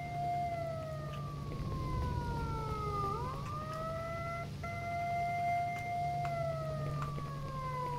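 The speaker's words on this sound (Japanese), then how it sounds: "ちょっとこのサイレン止めたいな。" An electronic siren wails in the game S.T.A.L.K.E.R. Shadow of Chernobyl, its tones sweeping down and rising again over a constant low hum, loud and continuous without any voices.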